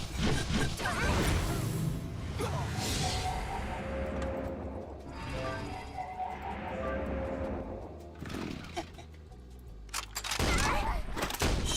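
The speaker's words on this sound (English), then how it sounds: "Shots fired by Christine in Tom's Murderer's team." Gunfire in the Atlantica Online tournament battle, bursts of shots and crashing impacts amid dense game effects and music-like tones, loud throughout with a sharp cluster near the end.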